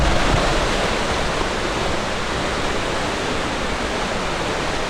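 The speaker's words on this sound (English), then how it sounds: "Nice sound is the rushing water." Rushing water at the Ingleton waterfalls after heavy rain, a steady, loud, broadband roar of falling water that fills the scene continuously with no voices.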